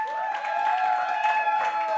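A studio audience applauds and cheers for the episode's sponsor during a French-language talk show, a steady wash of clapping over two seconds with a tonal hum beneath.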